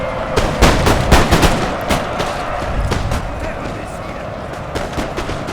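Musket volleys crack in rapid bursts at close range during a Napoleonic battle at Waterloo in the Napoleon Total War game, loud overlapping shots that thin out into scattered fire.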